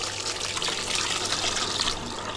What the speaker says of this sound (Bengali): এটাকে ঠান্ডা পানি দিয়ে ভালোভাবে ধুয়ে নেব